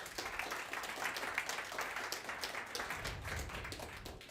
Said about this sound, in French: on peut vous applaudir, bravo.